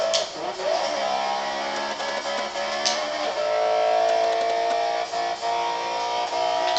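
A damaged engine of a 1993 Renault Clio in Forza Horizon 3 revs steadily with a rough, strained tone, holding a sustained drone with slight dips as the car drives along a highway.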